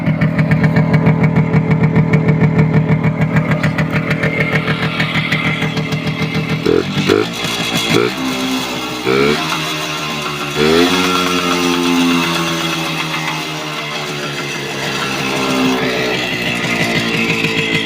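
A WSK 125 motorcycle's two-stroke engine running on a Dellorto 21mm carburetor, loud and close, idling steadily then blipped several times with rising and falling revs before settling back to a buzzing idle.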